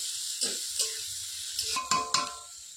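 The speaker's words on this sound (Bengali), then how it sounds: "পেঁয়াজটাকে আমি এখন হচ্ছে একটু লাল করে ভেজে নেবো।" Onions frying in a pan over a wood fire, cooked until lightly reddened: a steady close sizzle with a few scraping stirs and utensil knocks toward the end.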